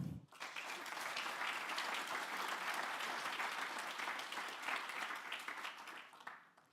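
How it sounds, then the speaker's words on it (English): A forum audience gives sustained applause for three speakers, a dense even wash of clapping lasting several seconds before tapering off at the close, fairly faint overall. "we'll give another huge round of applause for all 3 speakers"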